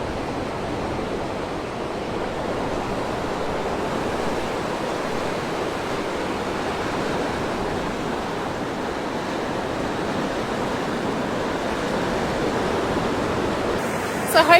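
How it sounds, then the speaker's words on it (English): Stormwater rushing and swirling through an engineered creek channel below the North Rocks Dam: a constant, loud broadband roar of flowing water, close by, with a brief knock near the end. "this whole engineered structure through here helps slow down the water as it then continues on the creek"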